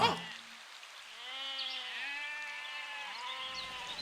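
A cartoon goat bleats in long, wavering cries, two drawn-out calls close together and fairly loud, with no talking.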